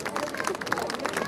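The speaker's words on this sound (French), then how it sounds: "On peut l'applaudir, Pépette" Crowd at the Claret truffle festival applauding Pépette the truffle pig: a short burst of many people clapping nearby, steady and lively, with some chatter mixed in.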